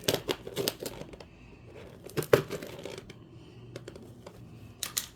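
Packing tape on a boxed Barbie doll is cut and pulled away in a few short bursts of tearing and crinkling, close and fairly soft, with pauses between them.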